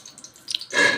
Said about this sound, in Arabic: وهدلق الميه دي